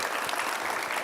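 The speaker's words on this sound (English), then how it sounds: "Another round of applause for our panelists." Audience applause for the panelists at an Appalachian coal miner summit, a dense, steady burst of clapping filling the room at close range.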